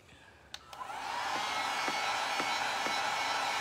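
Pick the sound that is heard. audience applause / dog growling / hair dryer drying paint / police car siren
hair dryer drying paint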